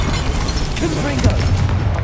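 A Confringo explosive spell cast in Hogwarts Legacy lands as a brief booming burst over dense, continuous game noise.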